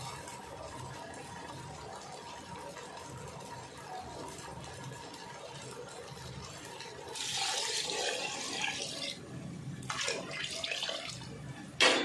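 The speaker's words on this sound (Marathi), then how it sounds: "आता मी सहा ग्लास पाणी टाकलं आहे मोजूनच घेतलं होतं मी ग्लासाने" Water is poured from a glass into a cooking pot, six glassfuls in all, with a louder gushing splash arriving in the latter half over quieter kitchen ambience.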